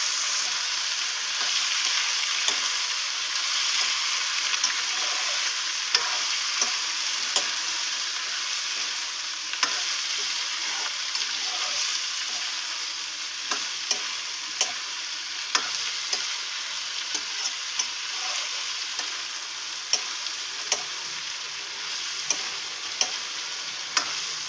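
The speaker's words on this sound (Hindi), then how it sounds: "अब इनको अच्छे से मिक्स कर लेंगे।" Mixed vegetables fry in a pan with a steady, dense sizzle while a utensil stirs them, giving sharp scraping clicks scattered through the middle and end. Close and even throughout, with no talking.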